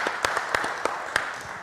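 Audience applause greets a guest, Dr. Arno, as he steps to the center at a Brazilian afternoon show; scattered, fairly quiet clapping with several sharper individual claps standing out.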